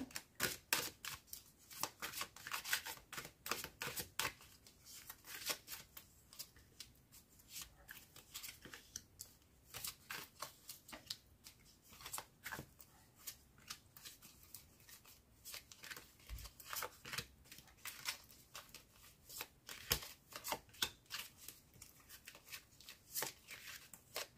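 Tarot cards shuffled by hand before a reading, quick papery riffles and soft slaps repeating at close range throughout, fairly quiet with no voice over them.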